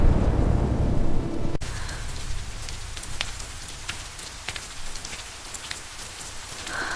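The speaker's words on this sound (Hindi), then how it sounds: "बाहर बहुत बारिश है।" Heavy rain pours steadily, with a loud rumble at the start and a sharp crack of thunder breaking through the downpour.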